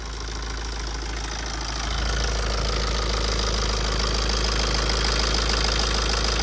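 A Tata diesel engine with newly repaired injectors on cylinders three and four runs at a steady idle, loud and close, its continuous rumble and light knock rising slightly after the first two seconds.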